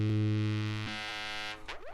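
A Grandmother synthesizer plays through a spring reverb. It holds a buzzy, harmonic-rich tone that shifts pitch a few times, then breaks into rising, warbling glides and wobbly reverb splashes at the end.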